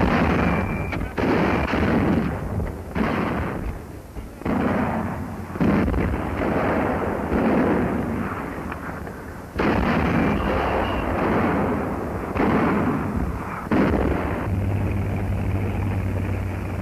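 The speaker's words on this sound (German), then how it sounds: "Das Feuer wird eröffnet." Artillery fire from a 1944 German newsreel: a rapid series of loud booming blasts and bursts, repeated irregularly over the whole stretch with rumbling after each, no voices.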